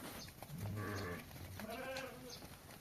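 Afghan sheep bleat in a flock, a few drawn-out, wavering calls rising over steady outdoor background noise, with no talk.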